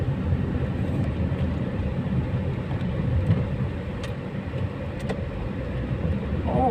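Dense, continuous low rumble of congested traffic on a busy road, steady and fairly loud, with a few faint clicks and a brief higher sound near the end.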